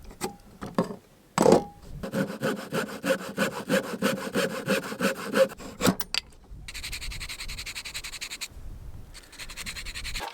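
Lengths of wood cut with a handsaw outdoors at a camp, close and clear, in a steady rasping back-and-forth rhythm of strokes, then a pause and a second burst of sawing.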